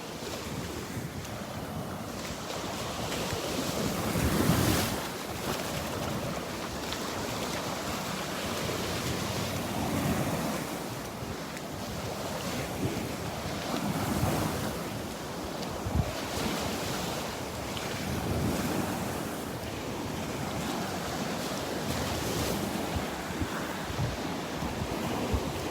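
Choppy, churned-up sea surf washing onto a Gulf beach at Delnor-Wiggins on a morning walk, a steady broadband roar with periodic louder breaking waves, heavy wind buffeting the microphone throughout, no talking.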